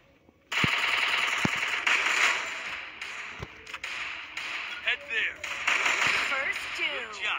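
Gunfire in the Free Fire battle royale game, with sharp shots and rapid bursts over a dense game soundscape, while someone talks over the action throughout.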